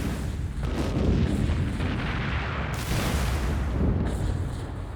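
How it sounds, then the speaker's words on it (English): Continuous heavy rumbling with repeated deep booms of WWII German bombs exploding over London in a sustained barrage, loud throughout with no voices. "Thousands of Nazi bombs raining down on London, shattering everything from structures to psyches."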